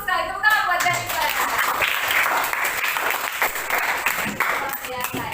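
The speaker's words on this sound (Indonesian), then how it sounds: "Tepuk tangan buat Jennifer." Students in an Indonesian classroom clap for a classmate after she answers correctly, a dense burst of hand claps that stays steady and fairly loud for several seconds, with a teacher's voice audible over the start.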